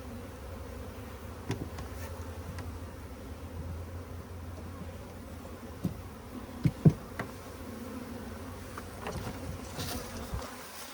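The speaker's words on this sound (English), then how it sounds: "There's all the field bees going in." A steady insect hum of honeybees buzzing at a hive entrance runs throughout, with a few sharper close passes and faint knocks over a low background drone.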